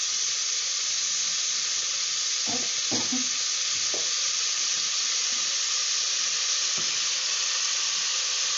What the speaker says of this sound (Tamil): வெங்காயம் கொஞ்சம் நல்லா வதக்கட்டும்.